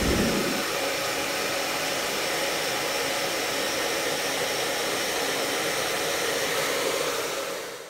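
A hair dryer blows hair dry after a keratin treatment, a loud steady whooshing roar that starts almost at once and runs unbroken before tapering at the end, with no talk.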